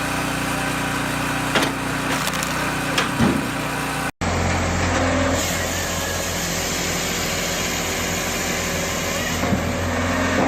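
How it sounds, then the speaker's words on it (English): A small log splitter engine runs steadily and loudly in a lumber yard, a continuous droning hum with a brief cut partway through. "The Woodbine log splitter hums steadily in the busy lumber yard."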